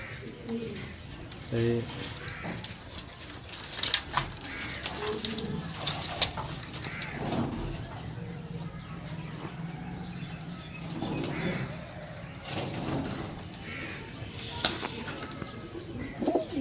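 Pigeons coo softly and flap their wings in bursts at close range, while people talk over them.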